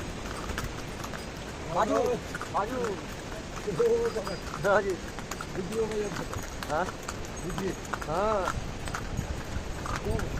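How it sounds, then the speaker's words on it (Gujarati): Steady clip-clopping of horse hooves close by as riders descend a mountain path on the Yamunotri pilgrimage route in Uttarakhand, with people talking over it throughout. "અમે ઘોડા ઉપર બેઠા બેઠા ઉતરીએ છીએ"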